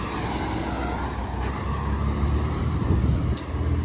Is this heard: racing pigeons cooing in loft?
no